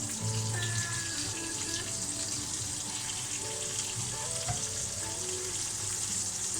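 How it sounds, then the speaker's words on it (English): Ghee, or clarified butter, sizzles and fries steadily in a hot pan while chicken supreme is cooked. A constant crackling hiss runs alone throughout, with faint clinks underneath. "I'm going to put in a little bit of ghee, a little bit of clarified butter in this now."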